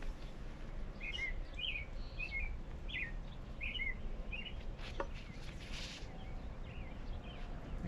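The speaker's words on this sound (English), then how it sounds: "And of course, a very loud bird singing in the background too." A bird sings in repeated short chirping phrases over steady outdoor ambience on a disc golf course at Princeton CC during a tournament round, fairly clear against the low background noise, with no talking.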